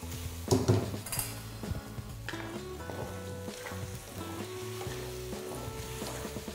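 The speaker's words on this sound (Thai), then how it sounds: "หลังจากนั้นนำปลาเก๋าที่ทอดแล้วลงไปคลุกฮะ" Fried grouper tossed in a hot wok for a Thai stir-fry with fermented soybeans gives a steady, close sizzle, with scattered clinks and scrapes of a metal utensil against the pan and no talking.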